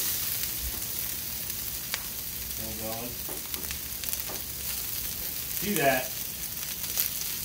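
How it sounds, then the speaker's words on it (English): Onions sizzling on a Blackstone griddle with an air fryer combo, a steady frying hiss throughout with scraping and stirring sounds near the middle and end, while a person briefly speaks. "first thing we're gonna do is throw down some onions."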